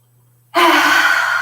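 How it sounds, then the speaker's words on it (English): Deep breath in through the nose followed by a long audible exhale through the mouth during a yoga class, a single close, breathy sigh-like whoosh that starts abruptly and carries on steadily. "we're going to take a big, deep inhale through the nose. And then we are going to exhale from the mouth."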